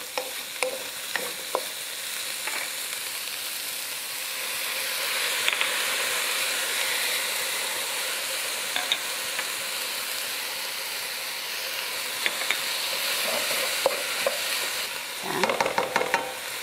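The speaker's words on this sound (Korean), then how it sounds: "그 다음에 물을 부을 겁니다." Water poured into a hot pan of stir-fried ingredients with doenjang, mirin and sugar during a rice cooking class: a steady loud sizzle and steamy hiss with a few light clatters, swelling near the end.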